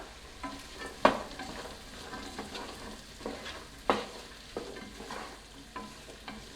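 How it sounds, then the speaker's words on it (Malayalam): Green peas stirred into vegetables frying in a pan for a Kerala-style vegetable biryani, soft scraping spoon strokes and a few sharp clinks over a low sizzle, close and fairly quiet with no talk. "അപ്പം ഗ്രീൻ പീസ് കൂടെ ചേർത്ത് കൊടുക്കാം."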